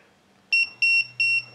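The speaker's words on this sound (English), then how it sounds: "The alarm goes off and you turn that off." A hipKey app alarm sounds after unpairing: three sharp, loud electronic beep bursts in even rhythm, each a bright two-tone chirp, with no talking.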